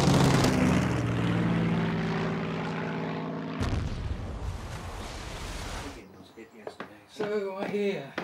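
Piston-engined WWII Spitfire and Hurricane fighters during Battle of Britain dogfighting over the English coast, a loud sustained propeller-engine roar and rumble for about six seconds, then fading as a voice talks over it.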